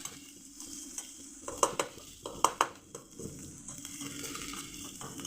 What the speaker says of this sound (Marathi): आता आपण हे मिक्सरमध्ये बारीक केलेलं वाटण घालूया आणि याला 1 मिनटं परतूया